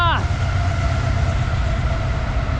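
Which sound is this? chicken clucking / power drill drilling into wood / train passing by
train passing by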